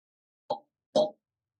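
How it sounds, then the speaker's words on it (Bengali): Fried cauliflower and potatoes are dropped into a pan for a mixed vegetable fry, making two short, soft plopping thuds about half a second apart, close and otherwise quiet. "এবার আমি দিয়ে দেবো ফুলকপি আর আলু যে ভেজে রেখেছিলাম এটা।"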